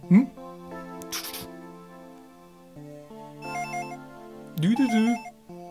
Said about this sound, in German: Das Telefon, schon wieder.